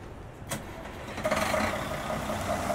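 A Setra 417 HDH coach in a driving game cranks with a sharp starter click, then its engine catches and settles into a steady, low idle rumble, with no talking.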